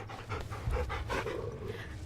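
Torgal, the wolf-dog companion in Final Fantasy XVI, pants steadily and rhythmically up close for about two seconds, with no talk over it.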